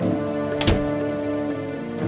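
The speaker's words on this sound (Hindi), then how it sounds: "देर रात में तूफान बारिश हो रही थी।" Steady stormy rain pours through a late-night scene in a Hindi cartoon story, a continuous hiss of drops on surfaces with a brief louder burst partway through, with no voices.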